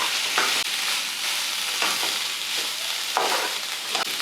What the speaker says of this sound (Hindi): अब अच्छी तरह से इसे नमक और हल्दी के साथ मिला देना।